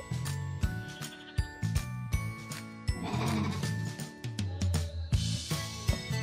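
Sheep and lambs bleat repeatedly over one another, loud and close, with a faint jingle of a bell among the flock, at a mountain house in Yenişarbademli, Isparta.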